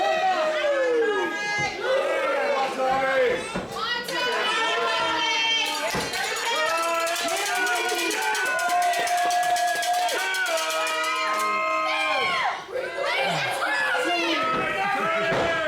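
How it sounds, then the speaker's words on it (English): A crowd at a heavyweight championship wrestling match roars with a dense wall of cheers, shouts and boos from many voices, loud and continuous throughout. "You can hear some of them cheering, some of them boo, some of them with their own souvenir cowbells out there."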